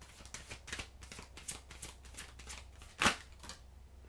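Oracle cards riffled by hand in a steady run of soft, papery flutters, closing with one sharp, louder snap of the deck; close and quiet, with no talking.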